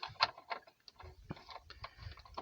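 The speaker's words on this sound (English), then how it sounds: "I'm just undoing one of the bolts" Wrench ratcheting as a bolt on the control arm bushing of a BMW is undone during an oil pan job, light irregular clicks and small metallic knocks close by, with no talk.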